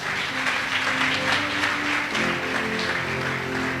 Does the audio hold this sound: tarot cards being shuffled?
no